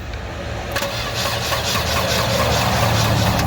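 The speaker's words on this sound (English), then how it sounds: "put my handy dandy starter switch on it so I can just hit the button and have it crank" A Volvo 240 wagon engine cranks over on its starter, triggered by a push-button starter switch, giving a steady, continuous churning whir that holds up for several seconds close by without catching.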